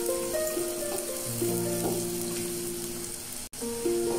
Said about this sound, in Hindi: गाजर को पहले पका लेंगे, थोड़ा सा फ्राई कर लेंगे 1 से 2 मिनट।